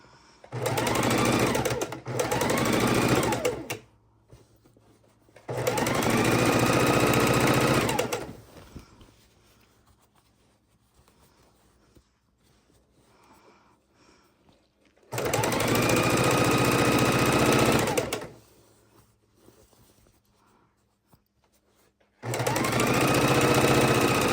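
A sewing machine stitches binding onto a Christmas quilt in four loud, steady runs of rapid needle chatter, each a few seconds long, separated by quiet pauses with faint handling noise.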